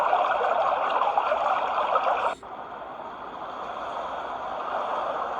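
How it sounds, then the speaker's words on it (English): Steady broadband water rush of a babbling brook track played from a small portable white noise machine, continuous and close, with a brief dip midway before the flowing hiss resumes. "Another babbling brick."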